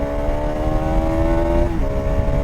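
Small-displacement motorcycle launching hard and accelerating, its engine note rising in steady tonal bands with a brief dip as it shifts, loud and close with constant road rumble beneath.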